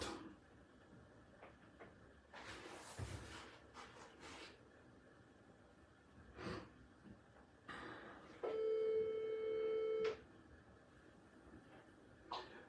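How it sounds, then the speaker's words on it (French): An incoming call sets a telephone ringing, one steady electronic tone sounding for about two seconds, fairly loud and near, amid quiet room noises and scattered clatter. "Voilà les employés qui m'appellent."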